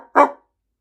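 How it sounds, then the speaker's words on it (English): A dog gives one sharp, close bark that stands out clearly against near silence, with nothing else heard around it. "But this dog barking, whose dog was it?"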